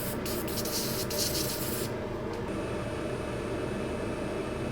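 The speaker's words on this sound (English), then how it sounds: "Get the airbrush and blow out." An airbrush blows dust out from under a chip on a top-end MacBook logic board during reflow repair work, giving a steady, close, loud hiss of air that runs the whole time and shifts slightly partway through.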